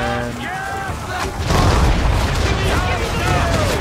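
Ship cannons fire in Assassin's Creed 3 naval combat, a deep booming volley rolling out and rumbling on as the guns discharge, with sea and ship sounds around.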